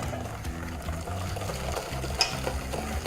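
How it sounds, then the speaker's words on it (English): A cream mixture being whisked into egg yolks and sugar in a bowl makes a close, steady rhythmic sloshing and tapping of the whisk, with a small clink partway through. "Now we're going to take our cream mixture and whisk it into our egg yolks and sugar."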